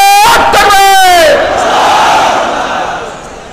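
A large rally crowd of an Islamic political movement roars a loud, sustained collective chant in reply to a Nara-e-Takbir call, many voices rising together then fading into a broad crowd roar.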